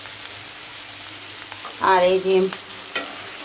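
Bitter gourd (karela) slices fry in a pan and are stirred until well crisped, giving a low, steady sizzle. A brief spoken phrase rises over the frying midway.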